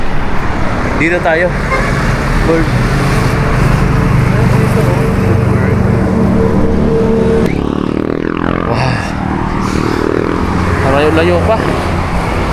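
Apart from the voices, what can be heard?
fast traffic passing on a highway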